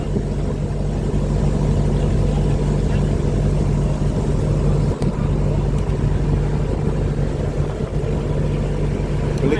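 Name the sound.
motorboat engine running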